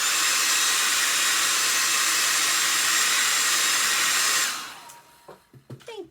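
A hair dryer blows loudly and steadily to dry paint on a glass wine bottle, then switches off, leaving brief faint clatter and handling noises.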